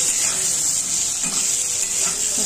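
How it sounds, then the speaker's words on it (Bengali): Cauliflower pieces frying in hot oil in a pan, a steady, loud, close sizzle that holds without a break, with faint stirring scrapes now and then. "এবার জাস্ট ফুলকপিটা ভেজে নিচ্ছি, ফুলকপিটাও ভেজে তুলে নেবো,"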